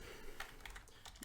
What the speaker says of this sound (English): can just type in virus scan